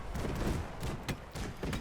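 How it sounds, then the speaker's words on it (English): Explosions on an airship in the strategy game Airships: Conquer the Skies: a dense barrage of loud, crackling blasts and booms, with several sharp bursts standing out over continuous rumbling battle noise. "We have just seen an explosion on there"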